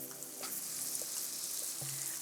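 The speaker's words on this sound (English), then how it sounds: "Saute that up in the coconut oil." Garlic, ginger and wet seasonings hiss in hot coconut oil for a chickpea curry, a constant close sizzle with faint crackles throughout and no talking.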